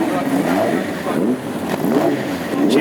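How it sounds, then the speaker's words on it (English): A 1700cc crossflow engine in a classic hot rod revs repeatedly at a Wimbledon stadium pit walk, rising and falling in several throaty surges under a commentator's voice. "revving the engine"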